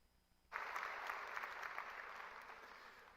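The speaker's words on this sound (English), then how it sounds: "Could we please have a round of applause for the mothers and grandmothers in attendance today?" Applause breaks out suddenly at a high school graduation ceremony and stays steady as the audience claps, sounding fairly distant in a large hall.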